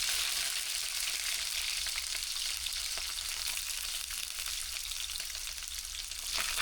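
Onion, garlic and green chilli fry in hot oil with cumin, cardamom, cinnamon and bay leaf for an egg masala. A steady, close sizzle runs throughout with small crackles, and nobody speaks.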